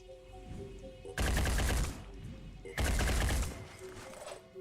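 Squad of soldiers firing guns in the turn-based strategy game Terror From the Void, two loud bursts of rapid automatic fire separated by a quieter pause, close and dense.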